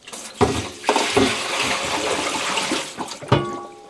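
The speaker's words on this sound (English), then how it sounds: "I'll fill this washer manually with water" Water poured by hand from a bucket into an Electrolux washer's drum, a continuous loud splashing gush with a few sharper surges and sloshes, steady throughout with no talking.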